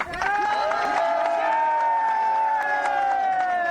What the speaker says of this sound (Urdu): اس کو ایک دفعہ اس کے لیے تالی بجا دو.